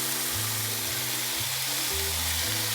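Beef sautéing in a pan gives a steady, even hiss of sizzling fat, close and moderately quiet, with a low hum running beneath it and no one talking.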